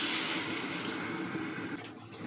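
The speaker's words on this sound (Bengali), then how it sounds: "কষিয়েছি, এখন পানি দিয়ে দিব।" Water is poured into a pot of braised beef, a steady rushing splash that stops abruptly near the end.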